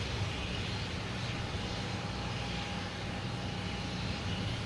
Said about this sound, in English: Next to take off is JetBlue.